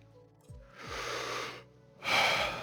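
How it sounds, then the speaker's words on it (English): Slow, audible breaths close to the microphone, a long inhale-exhale followed by another strong breath, calm and unhurried with quiet pauses between. "I am breathing."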